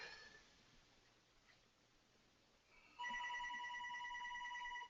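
A telephone begins ringing about midway, a loud steady electronic ring after a quieter stretch of faint background hiss, with no talk over it.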